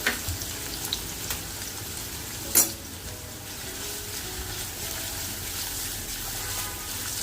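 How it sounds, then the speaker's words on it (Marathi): Finely chopped onions sauté in a pan with a steady, soft sizzle, broken once by a brief utensil clink. "दोन कांदे घेतलेत बारीक करून घेतले कांदे परतून घेतले"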